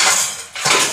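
Dishes and cutlery clatter loudly in a home kitchen sink as they are washed, a dense scraping jangle that briefly dips then returns with fuller clinking, with no voices.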